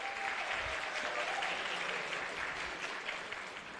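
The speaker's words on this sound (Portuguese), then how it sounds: "uma salva de palmas aqui para o colega" Sustained audience applause fills a college auditorium at an opening lecture, a dense, steady wash of many hands clapping at moderate distance for the whole stretch with no talk over it.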